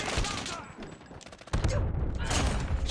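Dense rapid gunfire from the mobile shooter Call of Duty: Mobile, a continuous rattling burst that grows louder and fuller about halfway through, with a voice talking over the shots.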